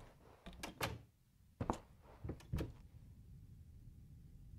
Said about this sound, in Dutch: Waarom hoor ik die deur?